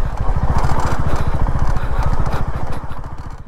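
A motorcycle is ridden along a road after an off-road stretch, its engine giving a loud, close, rapid pulsing throb that stays steady and eases slightly toward the end.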